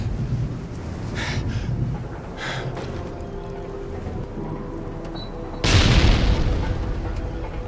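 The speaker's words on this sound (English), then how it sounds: "Flashbang and then grenade." Flashbang then grenade explosions in Modern Warfare III: a muffled, hazy game soundscape, then a loud sudden blast near the end that keeps rumbling on.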